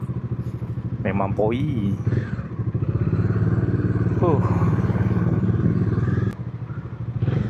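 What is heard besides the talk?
Yamaha Tracer MT motorcycle riding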